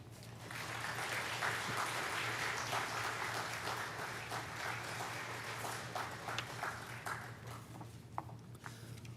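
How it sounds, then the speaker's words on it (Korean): A church congregation at a Wednesday worship service applauds steadily to welcome a visiting pastor to the pulpit, a sustained wash of clapping over a low steady hum, with no speech. "김창훈 목사님 나오실 때 큰 박수로 환영해 주시기 바랍니다"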